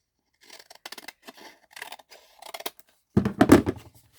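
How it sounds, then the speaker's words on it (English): Scissors snipping a paper tag for a journal, a series of close, crisp cuts ending in a louder cluster of snips. "I think if I give it a quick trim on both sides,"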